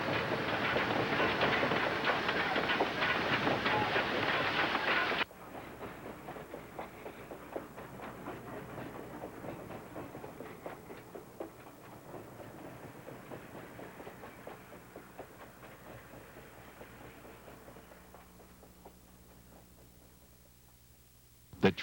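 ET&WNC Tweetsie narrow-gauge train running on rails, a loud rumbling roll with clattering wheel beats that drops to a steady, quieter clickety-clack and fades toward the end.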